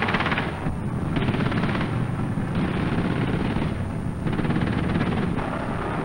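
A coaxial 7.62mm machine gun on a Bradley fighting vehicle fires sustained loud bursts, a dense rattling roar broken by a few brief pauses across several seconds.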